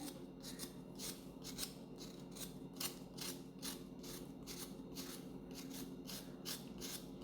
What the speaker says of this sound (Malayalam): ഇനി ശർക്കര ചെറുതായിട്ട് കത്തി വെച്ചിട്ട് ഇങ്ങനെ ചുരണ്ടി എടുക്കുകയാണ്